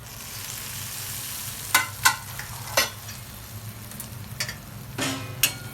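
Moong dal and fenugreek leaves sizzle steadily in a pan for methi bhaji, with a soft, even hiss punctuated by several sharp scrapes and taps of a spoon against the pan.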